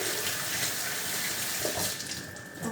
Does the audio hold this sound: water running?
yes